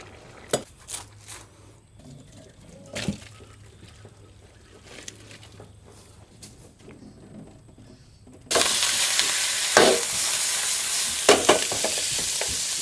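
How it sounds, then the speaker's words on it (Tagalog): Minced pork hits a hot pan for spaghetti after several quiet clinks of utensils and cookware. A loud, continuous sizzle then breaks out and keeps going, with stirring scrapes mixed in. "Meron tayong minced pork dito mga par, igigisa lang natin"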